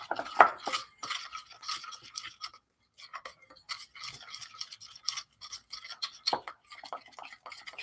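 A spoon stirs milk into powdered sugar in a bowl to make donut glaze, giving soft scraping and clinking strokes in uneven bursts, close and quiet, with a pause midway.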